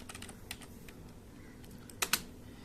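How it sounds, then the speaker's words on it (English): Fingers tap a computer keyboard in sparse, light keystrokes, with a sharp pair of louder presses near the end, close by in a quiet room. "You hit enter after typing this code"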